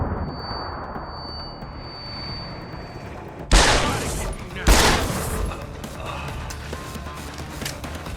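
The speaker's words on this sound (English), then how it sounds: "Shots." Two sharp, loud gunshots crack out a second apart in Deus Ex: Human Revolution, each with a short booming tail, over quiet ambient game sound.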